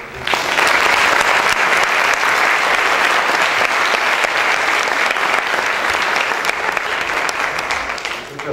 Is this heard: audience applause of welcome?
yes